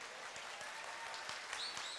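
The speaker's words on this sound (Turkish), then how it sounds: "Alkışlarla genç arkadaşımızı uğurluyoruz." A studio audience at a Turkish game show applauding, a steady wash of clapping hands from a crowd, moderately loud and continuous throughout.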